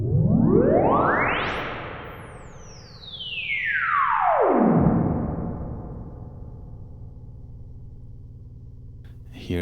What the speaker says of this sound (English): Here's the sine wave sweep with the external tank.